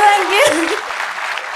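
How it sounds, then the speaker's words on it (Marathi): A brief voice gives way to an audience at a Marathi stand-up comedy show breaking into applause, a quick burst of many hands clapping that fills the room. "एकदा टाळी वाजवा दोघांसाठी"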